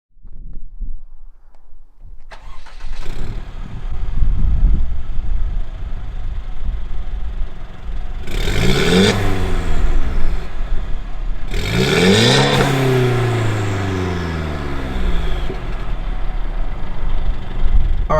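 A Mercedes C300 W205 fitted with an aftermarket downpipe cranks and fires up, settles into a steady idle, then gets two loud, sharp revs that rise and fall back, all close by with no talking.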